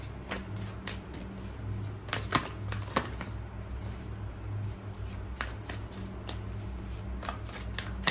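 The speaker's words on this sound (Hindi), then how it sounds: "चलिए, काफी शफल कर लिया है।" A deck of tarot cards is shuffled by hand, close up: a steady stream of quick, crisp card flicks and riffles keeps going for several seconds without a break.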